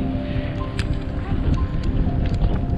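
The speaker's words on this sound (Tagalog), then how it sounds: "ang lakas ng hangin ah" Strong wind buffets the microphone during a road bike ride near Riyadh in a continuous rushing roar, with faint higher whistles and rumbling low noise throughout.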